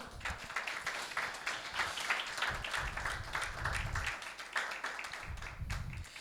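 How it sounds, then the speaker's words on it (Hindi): A church congregation at a Sunday meeting applauding: steady, dense clapping from many hands with some low thumping beneath, continuing throughout. "यीशु के लिए तालियां बजाएं।"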